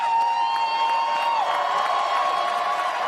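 A wrestling crowd at a hardcore holiday death match roars steadily in a dense, sustained cheer, with a faint whistling tone sliding through the noise.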